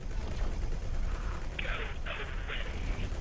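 Flak cannons fire during a space battle in the X4 Foundations game, a rumbling backdrop broken by a few rapid, bright bursts of fire in the second half, fairly close and moderately loud.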